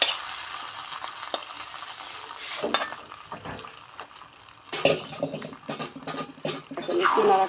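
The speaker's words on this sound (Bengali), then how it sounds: "এখন একটু নাড়াচাড়া করে নিই।" Khichuri being stirred after a browned garlic and bay leaf tempering is poured in, a soft intermittent sizzle with wet scraping and clinking of the spoon, quiet and uneven, rising near the end.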